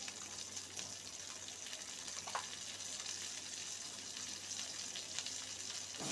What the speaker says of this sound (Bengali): কিছুটা জিরে ফোড়ন দিয়ে দিচ্ছি।